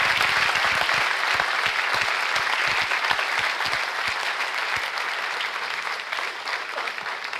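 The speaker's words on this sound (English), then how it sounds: "If we could all give him a round of applause." An audience applauds after a keynote talk, a dense, sustained round of clapping from a large room with individual claps standing out, slowly tapering toward the end.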